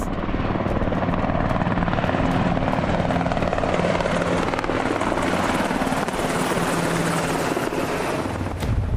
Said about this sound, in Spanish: Catalina despertó con el ruido de los helicópteros y los tanques